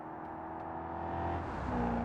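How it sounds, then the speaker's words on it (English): A rally exhaust on a car in the video game BeamNG gives a steady engine drone that builds slightly in pitch and loudness, close up, with no talk. "that rally exhaust actually sounds pretty good"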